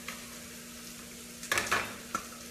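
Chicken sautés in a pan with onion, garlic and seasoning, a soft continuous sizzle broken by a couple of louder scraping stirs near the end, fairly quiet and without talk.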